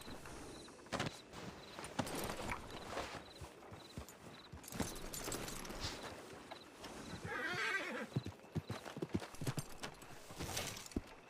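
A horse neighs and whinnies repeatedly at close range, with clip-clop hoofbeats on the ground as it walks, set against a steady background hum.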